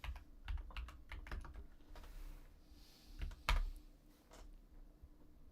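A computer keyboard clatters in quick bursts of close, crisp keystrokes separated by short pauses, with no voices.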